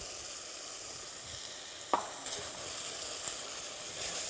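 Onion and garlic fry in a hot pan, producing a continuous gentle sizzle with a sharper crackle or two as pieces go in, quiet and close with no talking.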